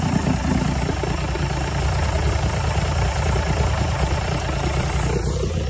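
A 1986 85 hp Force outboard engine on a Bayliner boat idles steadily, a constant close mechanical drone with a faint knocking texture and no talk.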